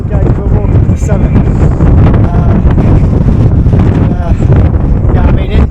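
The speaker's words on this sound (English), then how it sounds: "it definitely as you go further up, it's a lot windier than down there" Strong wind buffets the microphone on the summit of Cadair Berwyn in Wales, a loud, constant roaring rumble with gusty fluctuations, while a person talks underneath it.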